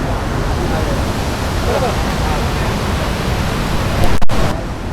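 Constant loud rush of a waterfall in Vaibhavwadi taluka, Konkan, near a glass bridge, a broad steady roar with no pauses, briefly punctuated by a short knock near the end.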